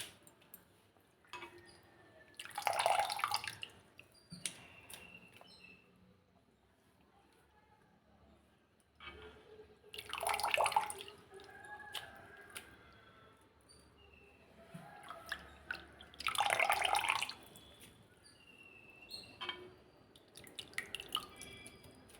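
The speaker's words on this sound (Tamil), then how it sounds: "கொஞ்சம் கொஞ்சமாக இப்படி லைட்டாக அலசி ஒரு பாத்திரத்தில் மாற்றி வச்சிடலாம்" Baby prawns are rinsed in water by hand a little at a time, three bursts of splashing and sloshing separated by quieter pauses with faint drips, close up and fairly soft.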